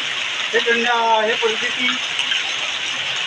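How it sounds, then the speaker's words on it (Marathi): Heavy rain pours steadily over Nagpur as a broad, constant hiss, with someone speaking clearly over it. "रात्री पाऊस 1:30 वाजतापासून सुरू आहे, आता सकाळी वाढलेला आहे"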